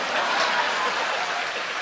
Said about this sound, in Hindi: इधर से तालियां कम बज रही हैं